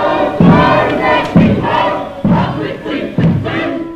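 A vocal protest crowd in central Christchurch chanting in unison, loud rhythmic shouted phrases repeating about once a second from a large group nearby.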